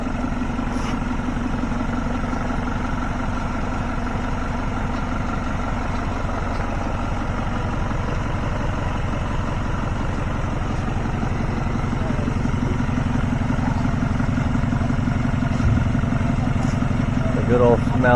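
An old non-emission diesel engine runs at a building site with sand and plywood deliveries, a loud steady low rumble that continues throughout without pause.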